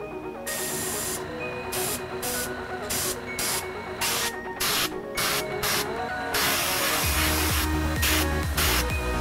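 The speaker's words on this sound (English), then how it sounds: "The airbrush is on. You can test it by spraying this." Airbrush test-spraying paint while learning to paint a skateboard, a loud hissing spray in repeated short bursts with brief gaps, then a longer steadier blast, close to the microphone.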